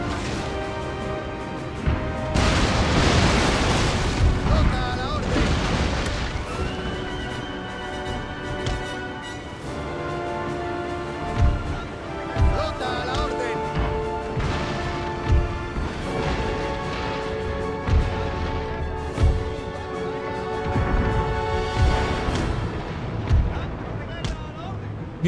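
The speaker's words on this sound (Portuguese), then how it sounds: "Vamos sair daqui do meio desse tiroteio de navio aqui." Ship cannons firing in a naval battle in Total War: Napoleon, with deep booms repeating irregularly under a busy orchestral score, while someone talks over the action.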